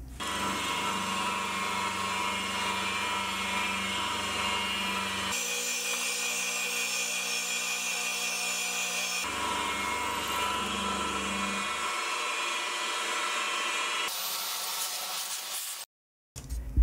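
Milling machine driving an 8mm end mill through aluminium at full width and 5mm depth, a loud steady whine with harsh cutting noise that shifts in tone between passes, then stops abruptly near the end.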